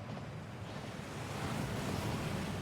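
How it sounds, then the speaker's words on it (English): Steady roaring wash of a waterfall in the Gringotts vault, broad and continuous with no pauses, swelling slightly louder partway through, with no voices. "That waterfall washes away all enchantments"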